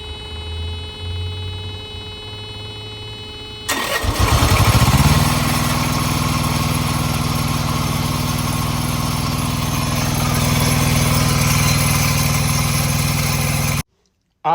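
A Thermo King refrigeration unit, just fitted with a new serpentine belt, starts up after a few seconds of background hum and settles into a steady, loud drone with a faint tonal whine riding over it, then stops abruptly.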